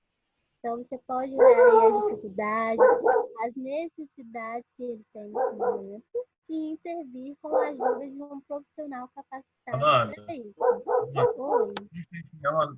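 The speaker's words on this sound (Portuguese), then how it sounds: "tem um cachorro latindo aí" A dog barks repeatedly in short yips and whimpers close to an open microphone, mixed in with someone speaking Portuguese through an online lecture.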